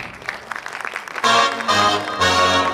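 Audience applause for singer Shahbaz Anjum at a talent show, beginning as scattered claps and swelling into dense, loud clapping that holds steady to the end.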